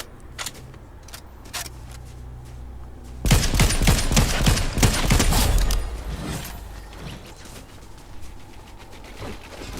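Rapid laser gunfire in the Fortnite video game (Chapter 4, Season 2): a dense, loud burst of repeated shots lasting a few seconds, preceded and followed by quieter clicks and game sounds.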